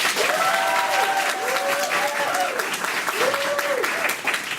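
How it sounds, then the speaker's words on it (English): An audience at a Stanford Improvisors show clapping to vote for an improv scene: steady, dense applause runs throughout, with whoops and cheering voices rising over it several times. "you will clap for them if you want their scene to stay in"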